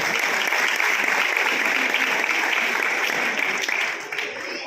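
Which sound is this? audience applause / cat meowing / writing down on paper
audience applause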